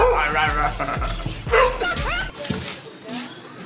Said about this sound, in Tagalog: Inahol lang aso eh, no?